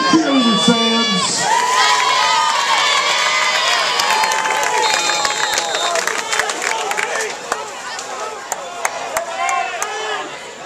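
At a high school football game, a crowd cheers and children shout for the cheerleaders, a loud, dense roar of voices that gradually settles.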